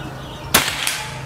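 A single air rifle test shot fires with a sharp, close crack, followed a moment later by a fainter snap at the target, against quiet background noise.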